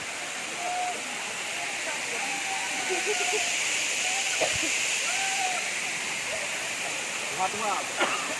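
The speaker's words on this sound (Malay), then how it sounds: "jadi yakin nyampe juga nih air terjunnya" The Serule waterfall in East Aceh roars with a steady, dense rush of falling water throughout, close and loud, while people talk quietly beneath it.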